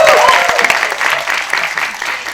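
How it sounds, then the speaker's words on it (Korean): An audience at a film screening and talk event applauds, a close, lively burst of many hands clapping that tapers slightly, with a voice briefly speaking at the start. "박수 쳐주셔도 돼요"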